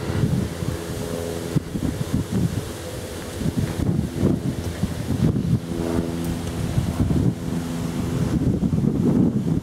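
Strong wind buffets the microphone on the Gulf of Finland shore, a steady low roar with gusty surges and breaking waves beneath, continuous and close throughout.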